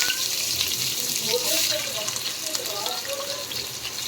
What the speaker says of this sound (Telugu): ఆనియన్స్ గోల్డెన్ కలర్లోకి వచ్చిన దాకా ఫ్రై అవ్వాలి ఫ్రెండ్స్